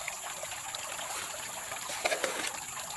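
Water is poured onto sand in a steady, close trickling stream lasting the whole stretch, with a few small splashes near the end.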